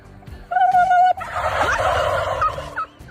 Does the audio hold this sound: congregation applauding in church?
no